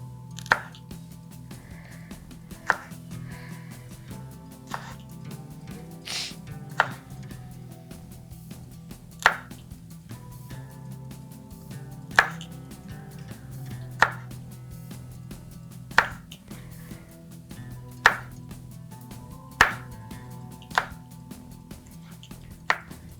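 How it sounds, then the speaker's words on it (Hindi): Knife chopping green chillies in half on a board for prawn karahi: about a dozen sharp, crisp cuts at an uneven pace, close and clear over a low steady kitchen hum. "तो हरी मिर्चों की हो गई हमारी कटिंग"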